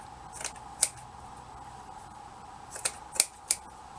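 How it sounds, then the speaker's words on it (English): Scissors snipping off scraps of craft material for a shabby vintage fabric flower, a few sharp, close cuts scattered over a quiet background with a steady low hum. "I'm going to cut those bits off,"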